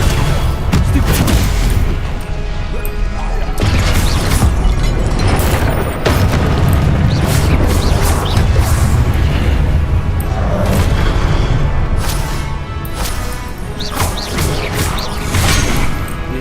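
Confringo blasting spell explosions in a Hogwarts video game, a rapid series of loud booms and crashes following one another closely throughout, near and forceful with no talk.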